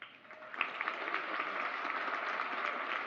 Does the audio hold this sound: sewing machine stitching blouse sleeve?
no